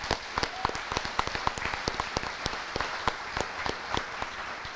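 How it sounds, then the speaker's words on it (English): Applause for a student at a school fine arts awards and variety show: a fairly faint, sparse crowd clapping with distinct individual claps in an uneven rhythm, heard from a distance in a large hall. "So let's give her a round of applause as well."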